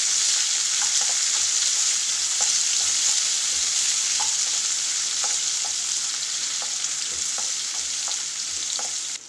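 Onions frying in hot oil in a pan for chickpea curry, a steady close sizzle with occasional scraping and stirring clicks, no talking.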